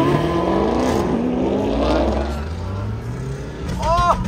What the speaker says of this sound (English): This Mustang is ridiculously loud.